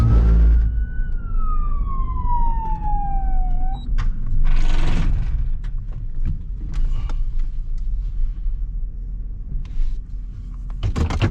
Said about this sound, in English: We're going to go ahead and turn those sirens on so he knows.